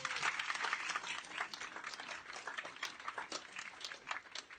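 An audience at a Melbourne book launch applauds in a dense, sustained wash of clapping that holds steady throughout, with a murmur of voices beneath.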